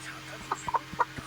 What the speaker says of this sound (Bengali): এই হলো কালো মুরগি